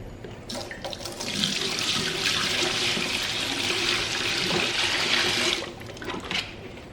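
Dirty water from a mop bucket is dumped into a sink in a steady, loud rushing pour that lasts several seconds before tapering off. No one speaks.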